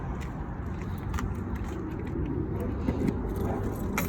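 Keys jangle inside a Fuzion 359 toy hauler RV, a steady metallic rattle running the whole time beneath a low vehicle rumble, with people talking nearby.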